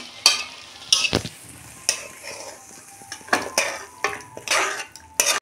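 Poppy seed curry with ridge gourd and potato, lightly sweetened with a pinch of sugar, is tipped out of a pan. A spoon scrapes and clinks against the metal in several short bursts, close and fairly loud, with no talking.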